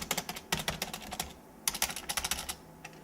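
Quick bursts of keystrokes on a mechanical IBM computer keyboard, sharp close clicks in uneven runs separated by short pauses, with no talking.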